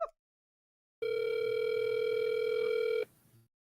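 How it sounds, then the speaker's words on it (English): A phone call's ringing tone sounds as one steady electronic tone lasting about two seconds, loud and alone, then cuts off, with a brief click at the start. "Man, this is taking a while to ring."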